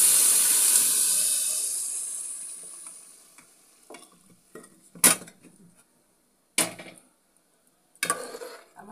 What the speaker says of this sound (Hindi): इसमें हम गर्म पानी ऐड कर देंगे।